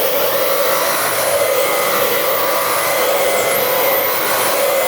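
A Dyson V15 Detect cordless vacuum cleaner runs continuously, a loud, steady, close whining roar of motor and airflow with no pauses and no speech.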